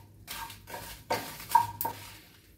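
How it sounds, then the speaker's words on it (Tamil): Dried red chillies, about ten, stirred and tossed in a pan for idli podi with drumstick leaves, making soft scraping rustles and a few sharper metallic clinks of the spoon, close and fairly quiet. "இப்போ இந்த வரமிளகாயை போட்டு வறுத்துக்கலாம்."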